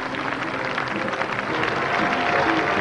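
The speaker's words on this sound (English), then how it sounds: "And a great hand for Brian Lara." Cricket crowd at a one-day international between Zimbabwe and the West Indies applauding as Brian Lara walks out to bat, a steady wash of clapping that builds slightly toward the end.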